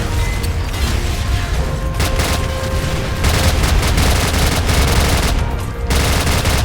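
Automatic gunfire in Call of Duty 4: Modern Warfare, dense bursts of loud close rifle shots with booms and mechanical clatter, running almost continuously.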